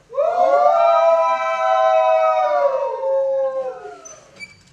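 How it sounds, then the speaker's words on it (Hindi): A pack of jackals howls mournfully in a long, wavering, drawn-out cry that swells, holds and then trails off. It is close and loud, with no talking over it. "सियारों के दल ने करुण सुर में सामूहिक विलाप करना शुरू कर दिया"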